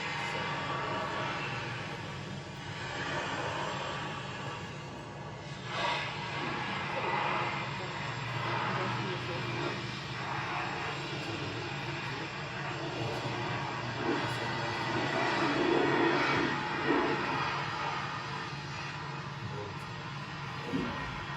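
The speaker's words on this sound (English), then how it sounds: "This is the sound of the sandblasting from the road up the hill." A constant distant roar and hiss of sandblasting on a road up a hill, faint and steady with slight swells, heard from afar.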